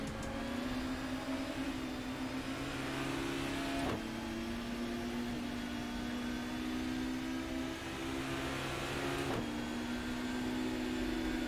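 A 1994 BTCC Volvo touring car engine holds a steady high drone around Brands Hatch in the GTR 2 racing game, with two brief gear-shift dips breaking the sustained tone.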